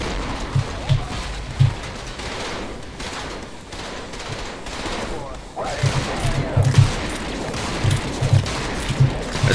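Rapid bursts of gunfire from Trepang2's Bladekisser DLC, with loud automatic volleys and scattered shots that thin out midway and then return in sharp clustered bursts, a voice speaking in between.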